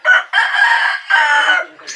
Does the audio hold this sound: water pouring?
no